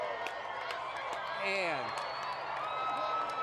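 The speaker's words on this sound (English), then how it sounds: "And the crowd goes wild." Large crowd cheering during a total solar eclipse, a broad wash of whoops and clapping with a rising-then-falling whistle-like shout and voices mixed in.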